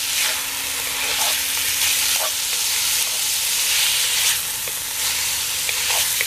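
Deer meat soaked in a dark sauce sautes in a hot black Dutch oven, giving a loud, steady sizzle with occasional stirring scrapes and no talking.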